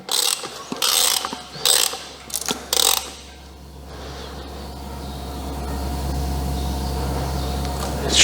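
A socket ratchet rapidly clicks in several loud bursts while turning a Mazda MX5 engine over to top dead center, then falls silent as a steady low hum rises in the background.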